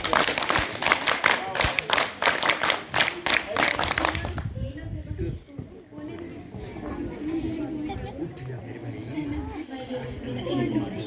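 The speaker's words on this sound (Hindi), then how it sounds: "जोरदार तालियां" A school audience at a motivational talk show claps loudly in quick, rhythmic bursts for several seconds, then the noise gives way to crowd chatter and people talking.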